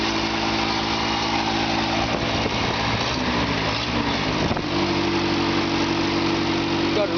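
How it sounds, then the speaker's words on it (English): A cheap old Toyota Hilux engine idles low and steady after a cold start with the choke off, a loud continuous rough drone with a slight shift in pitch partway through. "It idles pretty low and the choke's all the way off."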